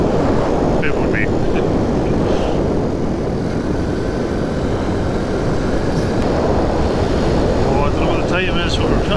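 Classic motorbike cruising at over 50 on a Scottish road run, a loud steady engine drone buried in heavy rushing wind noise throughout, with faint voices now and then.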